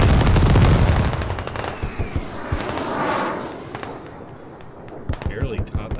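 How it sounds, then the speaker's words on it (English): In the military shooter Squad, an airstrike lands as a heavy blast followed by a run of sharp cracking bangs and a rolling rumble, with further loud bursts at the end. "Airstrike."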